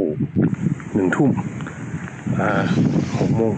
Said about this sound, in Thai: ลมแรงมากครับฟังจากเสียงโอ้โหลมแรงมาก